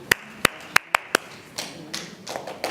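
Five crisp hand claps in a quick rhythmic pattern open, followed by softer scattered claps and taps from a group of people, a classroom attention-getting clap routine heard fairly close.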